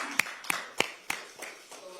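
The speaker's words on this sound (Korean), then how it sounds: "큰 박수 부탁드립니다" Scattered hand claps from a small crowd at a Korean political party recruitment ceremony, about six distinct sharp claps spaced evenly over two seconds, thin and moderately close rather than full sustained applause.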